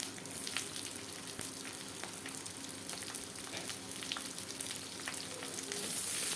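Onions and potatoes frying in a pan for Bengali aloo posto: a dense, continuous close sizzle with faint crackles and no voices, holding steady and swelling slightly toward the end.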